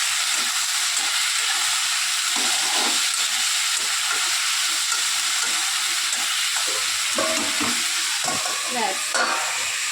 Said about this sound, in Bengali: নুন দিয়ে ভালো করে নেড়ে ঢাকা দিয়ে দেবো।